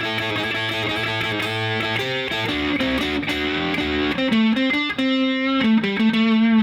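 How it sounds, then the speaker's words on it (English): A distorted electric guitar plays a run of blues rock two-note double stops, sustained and bending in pitch, loud and close with no talking. "I added a little gain, a little distortion to these double stops"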